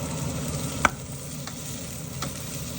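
Ginger sizzles gently in a pan for chicken tinola, a steady low frying hiss broken by a few distinct scraping stirs of a utensil.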